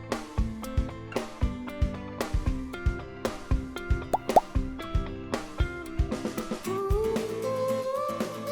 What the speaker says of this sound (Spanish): Vierte la pintura en el mismo punto